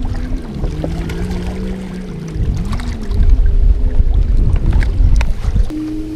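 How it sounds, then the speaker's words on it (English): Motorboats and jet skis pass on a lake, a steady droning engine hum that rises and grows louder and rougher midway, with wind buffeting the microphone and no talking. "That boat and jet ski noise is almost more annoying than the waves that they create."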